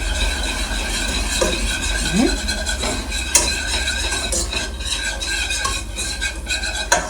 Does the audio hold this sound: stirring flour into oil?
yes